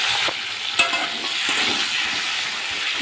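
Vegetable stalks added to hot oil give a steady, bright sizzle with a few sharp crackles and stirring clicks, close and continuous without voices.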